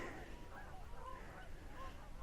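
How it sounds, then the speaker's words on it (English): Geese honking far off on a crisp snowy day along the Cape Cod seaside, faint repeated calls drifting over a steady outdoor wash of wind and ambient noise. "can you hear the geese in the distance?"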